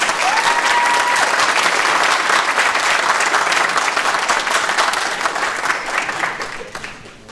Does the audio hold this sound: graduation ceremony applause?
yes